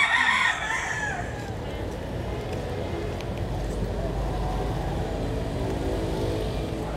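A rooster on a Philippine fighting-cock farm crows once at the start, loud and close, then trails off into a low outdoor background hum.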